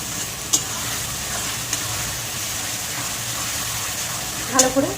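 Ginger and garlic paste sizzles with chicken in a pan, a steady hiss of frying with a few sharp clinks of a spoon stirring.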